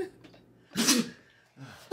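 A single sharp sneeze bursts out in a quiet room, followed by a faint breathy voice sound.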